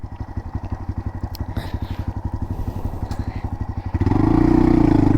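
A Honda Monkey motorcycle engine idles with a fast, even putter close by, then revs up into a louder, steady drone near the end, with no talk over it.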